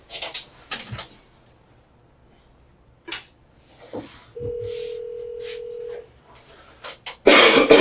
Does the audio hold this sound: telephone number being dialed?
yes